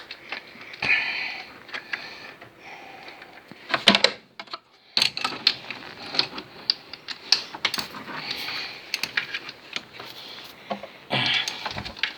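A wrench works loose the oil filter on a Citroën Xsara Turbo D, with irregular metallic clicks, ratcheting taps and scraping clatter close by, broken by short gaps and no talk.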